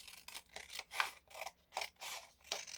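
Scissors snip through paper being cut for envelopes, about half a dozen crisp, evenly spaced cuts, close and alone.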